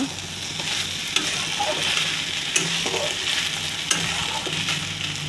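Banana stem curry stirred in a pan with fried eggplant and potato, a steady close sizzle of frying under a spoon's scraping, with a few sharp clinks of utensil on metal spaced through the stretch; no talking.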